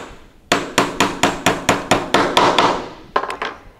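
Hammer blows driving nails into a wooden birdhouse: about ten sharp, evenly spaced strikes in a brisk rhythm, a short pause, then a few quicker taps, loud and close with no talk.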